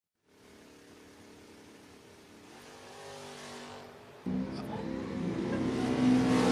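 A 1986 Ford Mustang drag race car idles, then launches with a sudden loud roar at a drag strip, the engine note climbing steadily as it accelerates away, with faint crowd noise behind.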